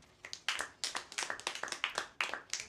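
A comedy club audience claps in scattered, uneven bursts that swell and fade over a few seconds, with no talk over it.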